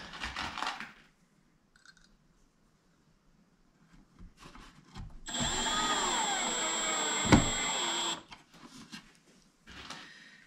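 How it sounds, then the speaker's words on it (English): A power drill drives screws into a bathroom vanity drawer, a single sustained whirring run of about three seconds, close and clear, framed by brief handling clatter and quiet gaps. "So now it's just a matter of putting the screws in."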